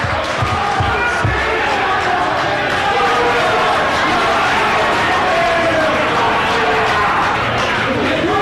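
A loud wrestling arena crowd roars continuously through a Samoa Joe vs. Ian Rotten IWA-MS match, with dense chatter and shouting and a few heavy thuds near the start.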